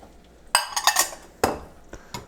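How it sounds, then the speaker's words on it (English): Chopped onions and green peppers tipped into a pot, making a few sharp clattering bursts against the metal with short gaps between them and a quiet rustle in the pauses. "this is where we dump in all of our chopped veggies"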